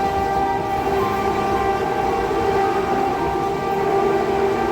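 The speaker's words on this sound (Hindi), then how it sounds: "ड्राइवर एक लगातार लंबी सीटी का प्रयोग करता है।" A railway locomotive horn sounds one long continuous blast, loud and steady for the whole stretch with no break or change in tone.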